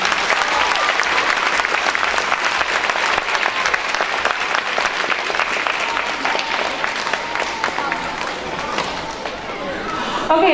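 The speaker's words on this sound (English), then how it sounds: "If we could give these guys a round of applause" A school awards assembly audience claps steadily for the student council officers, dense and continuous applause from a large crowd with scattered voices and chatter mixed in, holding strong throughout before easing slightly near the end.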